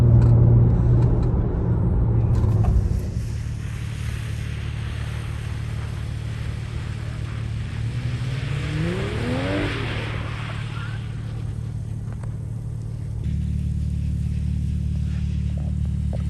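A BMW M3 G80 drives a slalom around cones, its engine rumbling steadily from inside the cabin, with a brief rising rev midway and a deeper drone returning near the end.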